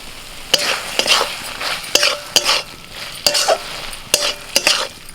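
A pan of taro leaves cooked with shrimp in mustard oil, stirred with a utensil: about a dozen sharp scrapes and clinks in uneven bursts over a low sizzle, close up, with no voices.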